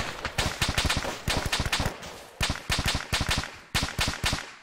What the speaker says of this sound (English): At least I'm suppressing fire over that direction.